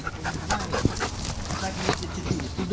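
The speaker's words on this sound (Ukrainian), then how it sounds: "тому що Піксі це німецька вівчарка." A German shepherd pants quickly and steadily nearby while people talk over it.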